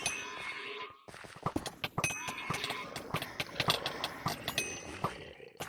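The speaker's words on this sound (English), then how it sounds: "you can ride around on a horse and, like, level it up and whatever" Horse sounds in a video game: rapid clip-clop hoofbeats running steadily alongside bright dings and metallic clangs, dense and continuous over a game soundscape.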